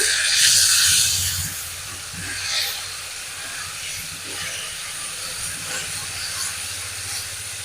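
Taro leaves stirred through cumin in a hot pan give off a steady bright hiss, loudest in the opening second and then settling into an even sizzle with a few soft stirring knocks.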